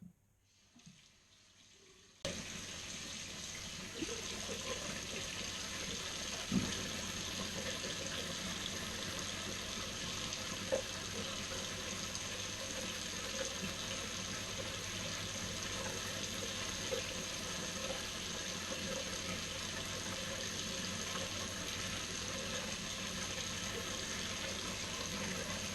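Water running steadily from a tap for a rinse during a straight-razor shave, starting abruptly after a brief quiet moment and continuing as a constant hiss with faint clinks, close by.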